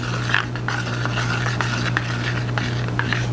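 A brush handle stirs a runny silver and lavender hair toner mixture in a bowl, making close, continuous scraping and swishing with small taps against the bowl's sides over a steady low hum.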